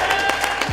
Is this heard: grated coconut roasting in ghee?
no